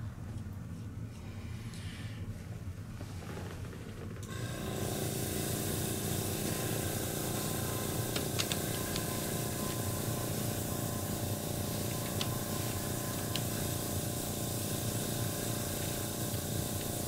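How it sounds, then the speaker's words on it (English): An airbrush blasts leftover flesh-toned paint residue out of its nozzle while a Tamiya Panther Type G model is being painted. A quiet start gives way to a loud, steady hiss that runs unbroken to the end. "So we'll just spray that out."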